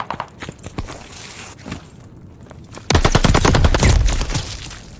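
Rapid automatic gunfire erupts loud and close in a team shooter match, a dense burst of shots fighting over a hard point after scattered single cracks and footsteps.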